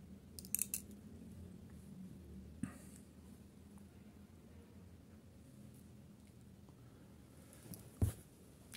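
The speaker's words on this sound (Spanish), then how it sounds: "Las tijeras, lo que les decía" Small metal scissors on a Victorinox Farmer X Swiss Army knife are handled, with a few faint clicks and snips early on and a sharper click near the end, over a quiet background hum.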